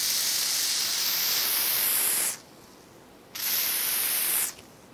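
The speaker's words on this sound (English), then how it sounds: "I'm just going to spray it to like kind of melt it down." Two long hissing bursts from an aerosol hair spray can onto wig lace, each a couple of seconds, separated by a short pause, close and fairly loud.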